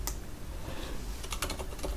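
Quick, steady keystrokes on a computer keyboard, typing text into a callout shape during an ITQ Excel exam walkthrough; close and continuous, with a few sharper clicks near the end and no talking.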